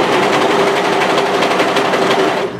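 A sewing machine runs a cardigan seam with pins in the work, a loud, continuous close-up whir with a fine rapid pulse that holds steady throughout.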